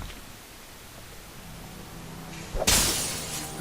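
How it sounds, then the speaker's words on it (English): A pane shatters in Dishonored, a sudden bright crash of breaking glass bursting out after a low, hissing ambient hum, then trailing off into noise. "There are very few times where you actually have to break glass to get something."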